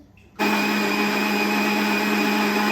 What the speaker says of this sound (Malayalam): അങ്ങനെ ജ്യൂസൊക്കെ അടിച്ചു